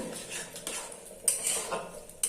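A spoon scrapes and clinks around a metal pot of soybean curry after water has been added, with irregular stirring strokes and a few sharper knocks, close and fairly quiet.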